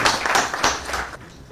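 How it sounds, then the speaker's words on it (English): Audience applause at an African Union committee meeting on climate adaptation, a dense, steady clapping that fills the room and thins out toward the end. "A round of applause."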